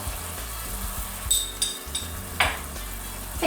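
Tomato sauce with dried mint stirred in a pan while it sizzles and fries, a steady crackle with a few sharp clinks of the utensil against the pan, close and alone.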